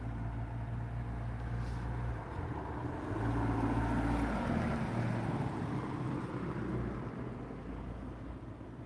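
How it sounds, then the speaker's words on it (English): A car drives through a city street with a low, steady rumble, swelling a little as it comes closer, then easing off, with no talk. "And now there's a car coming through."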